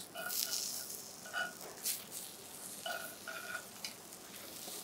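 Snap peas sizzle faintly in a frying pan on residual heat after the burner is switched off, a soft, low crackle with a few light stirring scrapes and taps.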